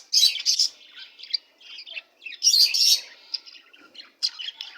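Four diamond dove chicks chirping close by, a quick run of thin high tweets and squeaky calls in short irregular bursts with brief pauses between them, no talk.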